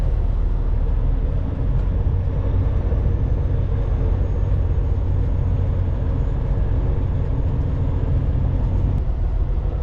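Truck creeping along in low gear, heard from the cab as a dense, steady low engine rumble with road noise, continuous and fairly loud for the whole stretch with no talking.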